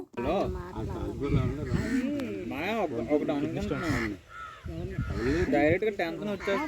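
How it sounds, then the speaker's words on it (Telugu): Crows perched on overhead power lines caw in harsh, repeated calls, heard close and fairly loud and mixed with ongoing voices through most of the stretch. "కరెంటు వైర్ల మీద కాకులు ఎలా నించున్నాయో"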